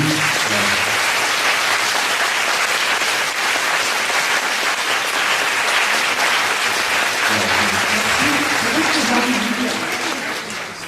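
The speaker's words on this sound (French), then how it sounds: "applaudir bien fort pour remercier Marie-Noëlle Fabi" Loud, sustained audience applause after a lecture on the Book of Job, thick continuous clapping with some voices murmuring underneath before it tapers off.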